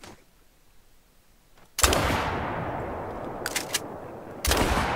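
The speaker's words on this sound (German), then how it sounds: "Ihr werdet es nicht glauben, beide Schüsse haben getroffen." Hunting shots ring out in The Hunter: Call of the Wild while taking aim at a pheasant: a loud sharp report with a long fading echo, then a second blast a few seconds later, otherwise quiet.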